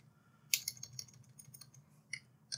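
Keys on a computer keyboard are tapped at a Windows PC: quiet, close clicks in an irregular run with a few sharper presses, over a faint low hum.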